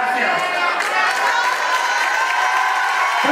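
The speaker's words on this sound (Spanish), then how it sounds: "Los aplausos, que se escuche gente de Cuautla, que se escuche" Marchers and onlookers at a pride march in Cuautla, Morelos, applaud and cheer in a steady, fairly loud wash of crowd noise that continues without a break.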